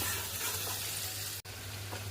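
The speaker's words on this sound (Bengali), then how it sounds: "এবার ভালো করে মাটনটা কষাবো" Marinated mutton being sautéed with onions in a pan: a soft, even sizzle with a faint low hum and one brief dropout partway through.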